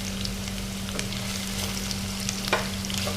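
Ginger sizzles and crackles in a hot pan while being stirred for native chicken adobo, a steady close frying hiss broken by scraping stirs, with a constant low hum underneath.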